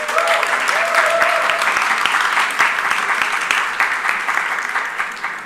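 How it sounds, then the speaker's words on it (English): An audience at an international public library forum claps in sustained, dense applause, close and fairly loud, tapering slightly toward the end. "please give a round of applause for Esma"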